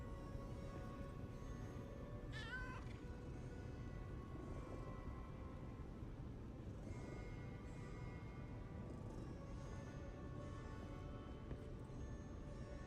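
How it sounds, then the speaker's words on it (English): A cat in the game Lies of P gives a single short meow while being petted, rising briefly over a steady bed of game music and ambience. "Oh! Cat! I can pet the cat now."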